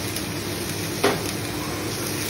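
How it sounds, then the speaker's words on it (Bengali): Ground spices and garam masala sizzling steadily in a pan for vegetarian ghugni, with one brief louder splash-hiss as water goes in, close and continuous. "ওই ভাজা মশলাটা দিয়ে আর শেষে একটুখানি গরম মশলা দিয়ে জল দিয়ে দিলাম"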